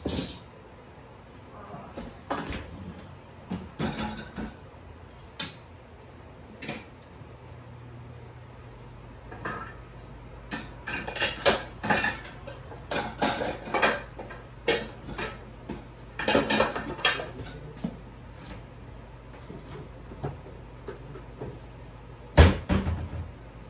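Dishes and cutlery handled at a kitchen sink while cooking pizza at home: scattered clinks, knocks and clattering bursts, irregular and close, with a few louder bangs over a faint hum.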